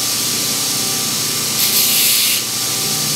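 A slack belt grinder shapes the curved bevel of a bowl gouge blade, giving a steady loud whirring hum with a brief harsher rise of grinding hiss midway as the steel meets the belt.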